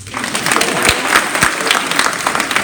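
A large audience at a guest speaker's talk clapping together, loud dense applause that starts abruptly and stays steady and full throughout.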